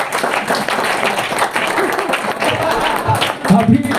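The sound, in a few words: applause, clapping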